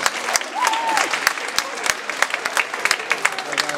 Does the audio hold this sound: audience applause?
yes